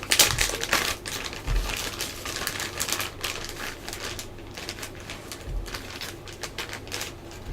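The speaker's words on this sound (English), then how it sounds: "Let's open some of these bags." Plastic bags holding Lord of the Rings action figures are torn and opened up close, giving a steady run of crinkly, crackling rustles and small snaps with no talking.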